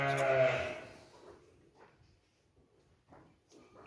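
A lamb suffering from severe constipation gives one loud, wavering bleat at the start, then soft rustling and faint low sounds follow in a quiet space.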